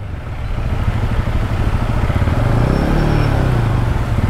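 A car pushes slowly through deep water on a flooded Alibag bypass road during heavy monsoon rain, its engine droning loud and close with a steady wash of water throughout.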